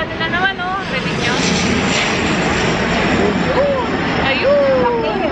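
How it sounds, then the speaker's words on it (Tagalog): A fixed-wing airplane roars low overhead near an airport by an outlet mall in Canada, a loud continuous engine rush with shifting tones throughout, while people talk. "Ayan na, aeroplano na naman, oh."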